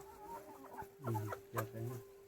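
Egg-laying hens cluck in short bursts close by, a few soft calls in quick succession over a faint steady hum, in a poultry shed.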